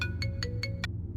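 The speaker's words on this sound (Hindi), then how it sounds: "मेरा फोन।" A mobile phone ringtone chimes five times in a quick, even pattern of bright tones over a steady low hum in the background.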